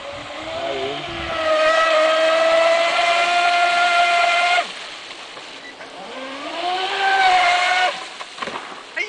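Magin One boat engine at full throttle, a loud, close sustained high-pitched roar that holds steady, drops briefly, then climbs again in pitch as it revs back up before tailing off.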